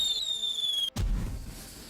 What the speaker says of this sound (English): We popped a couple of rounds at them but didn't connect with either of those guys.